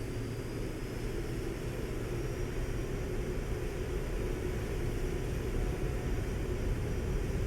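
A simulated airplane engine in X-Plane 12 roars at full throttle, a steady, dense drone with no break, heard alone during a night takeoff roll from Fort Lauderdale.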